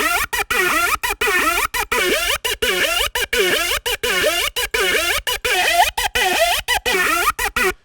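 A synth run through distortion and a phaser with a Vowel Low vocal filter churns out a loud, gritty, chopped pattern of short bursts separated by hard gaps, the sweeping formant-like tone swirling through each hit.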